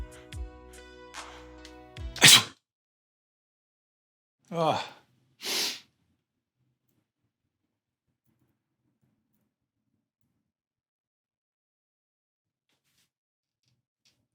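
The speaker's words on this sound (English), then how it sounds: "I'm going to sneeze right now." A close, loud sneeze follows a short stretch of humming, then a couple of breathy gasps and snorts before long silence.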